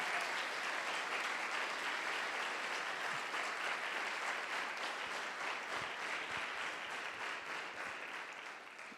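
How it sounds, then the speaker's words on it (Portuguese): A church conference audience gives loud, sustained applause, a dense wash of clapping that holds steady and then gradually thins toward the end. "Dá um aplauso a Deus bem forte"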